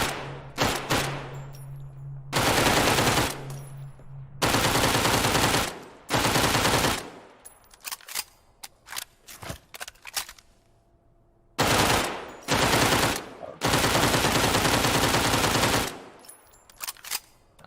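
Automatic gunfire rings out in the survival video game Dead Matter, loud sustained bursts of rapid shots alternating with single cracks and short pauses, with no talking.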